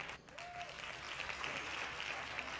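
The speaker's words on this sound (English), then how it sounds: "Hand claps, please." Hand claps from a podcast audience, a steady patter of applause holding at moderate level throughout, with no voices over it.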